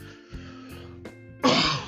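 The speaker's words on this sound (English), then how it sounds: "when you start coughing, you start coughing" Throat clearing and coughing in a home bathroom, a couple of throaty rasps followed by one loud, harsh cough near the end, close and on its own with no talk.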